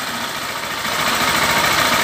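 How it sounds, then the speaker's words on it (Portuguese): A motorcycle engine running at idle just after starting in a workshop, a steady close mechanical hum and rattle that holds constant, growing slightly louder partway through. "Pronto, a motocicleta em funcionamento."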